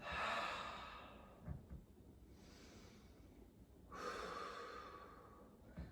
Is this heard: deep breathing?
yes